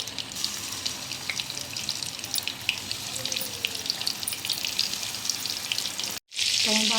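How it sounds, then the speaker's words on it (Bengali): Chicken koftas fry in hot oil with a steady, close, dense sizzle throughout, then a brief break near the end followed by a louder burst of sizzling. "তো আমি বাকিগুলো ওইভাবেই ভেজে নেব।"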